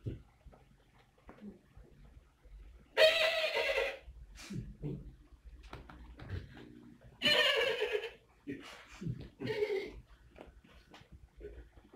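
A horse neighs loudly twice in a whinnying burst, once near the start and again midway, with quieter snorts and shuffling sounds between them in an otherwise quiet setting.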